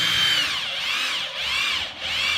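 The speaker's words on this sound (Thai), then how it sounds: "เจาะรูน็อต" A power drill bores a bolt hole, its motor whining loudly and continuously, the pitch rising and dipping in slow swells as it bites in.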